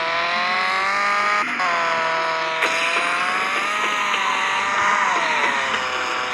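A Tofaş car in a Turkish-made mobile driving game runs a lap: a loud, continuous engine drone rises and falls in pitch with brief shifts and no talking.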